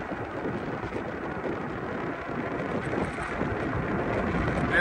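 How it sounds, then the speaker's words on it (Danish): Outdoor wind buffets the microphone on a 1000-watt electric bike ride, a constant loud rumbling roar with gusty surges and no talk. "nu er der lidt vind udenfor"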